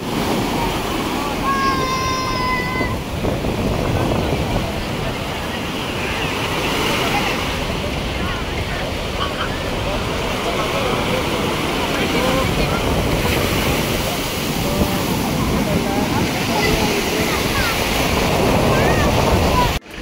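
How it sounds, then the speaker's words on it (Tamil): Sea waves on Mahabalipuram beach near the Shore Temple, a continuous rolling surf wash with heavy wind buffeting the microphone, loud and steady throughout. "ஸோ அந்த பீச்சோட அந்த சத்தத்தை கேட்டு ரசிங்க."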